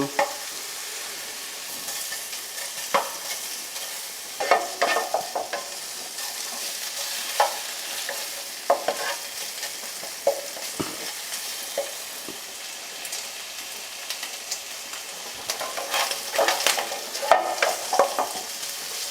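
Bacon sizzling and crackling steadily in a pan as its fat renders out, with frequent pops and the occasional stir of a utensil, close and continuous.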